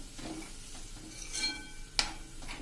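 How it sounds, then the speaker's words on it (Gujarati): Garlic curry being stirred in a pan after water is added, a soft steady scraping and sizzling with a sharper clink of the spoon against the pan near the end. "અને આને બધું સરખું મિક્સ કરી લેશું"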